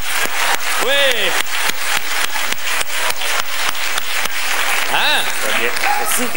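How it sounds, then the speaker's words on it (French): Audience at a live comedy show in Quebec claps in steady, dense applause throughout, with voices calling out over it. "On les applaudit, s'il vous plaît."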